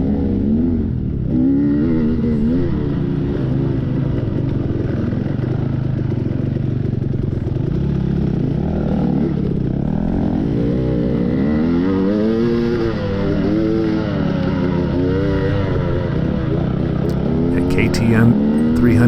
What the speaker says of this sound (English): KTM 300 two-stroke versus KTM 250 two-stroke. I'm on the 250.